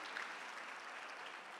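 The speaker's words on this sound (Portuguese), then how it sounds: "Eu queria que todos dessem uma salva de palmas para esses homens e mulheres de Deus" Faint applause from a church conference congregation for pastors, a soft even wash of clapping heard from a distance throughout.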